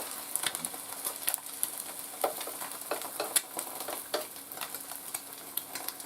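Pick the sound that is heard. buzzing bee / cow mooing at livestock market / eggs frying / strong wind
eggs frying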